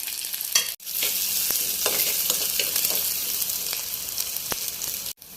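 Chopped onions and green chillies fry for spinach thoran, a loud, steady sizzle close up with brief scraping stirs and two short dropouts.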